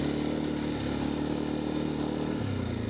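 A Segway AT5L quad bike's engine runs in a forest, a steady close mechanical drone with a slight shift in pitch near the end, and no talk.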